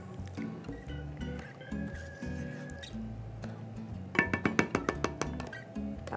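Milk pours into a pot of New England clam chowder, a soft liquid trickle and splash, followed by a run of quick clinks and taps of a utensil against the pot near the end.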